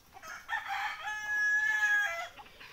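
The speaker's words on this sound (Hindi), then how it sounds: "वो देखिए लड़ रहा है मुर्गा।" A free-range eight-month-old Sonali desi rooster crows loudly and close by, one drawn-out call lasting around two seconds, with no talk over it.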